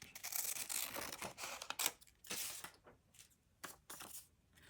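Scissors cut through fabric for a journal pocket in several quick bursts of rustling snips, separated by short pauses; close and fairly quiet, with no talking.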